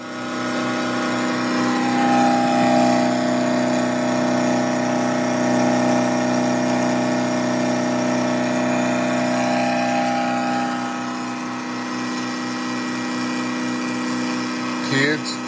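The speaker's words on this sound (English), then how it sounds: "This is how you machine the lip off of a Chinesium valve cover" A machine tool cuts the lip off a cheap big block Chevy valve cover with a steady, loud, droning whine and strong sustained tones that shift slightly in pitch partway through, running continuously close up.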